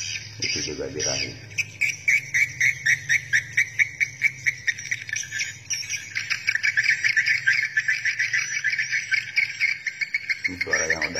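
A swiftlet mating call recording gives rapid, high-pitched chirps and twitters in a dense, continuous pulsing stream. The calls are loud and close, with low background hum underneath.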